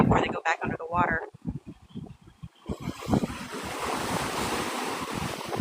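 Strong wind buffets the microphone over crashing ocean surf on Navarre Beach near Pensacola, Florida, a steady roar building after a few seconds of talking at the start.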